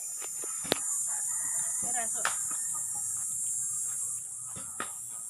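Rhode Island Red and Dekalb Brown hens in a small coop cluck in scattered, soft calls at close range over a steady hiss, with a couple of sharp knocks and a faint crow-like call.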